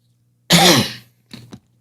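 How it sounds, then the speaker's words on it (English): A single harsh cough close to the mic, followed by a couple of short, softer throat sounds after a brief pause. "Whatever this lingering cough is,"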